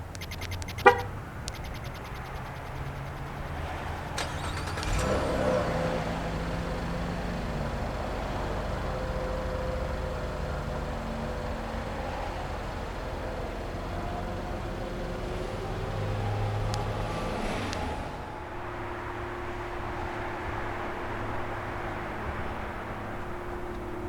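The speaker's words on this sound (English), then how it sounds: "There is remote start also included." A 2018 Cadillac XTS on remote start gives a sharp horn chirp, then the engine cranks and settles into a steady, moderately quiet idle with some faint background noise.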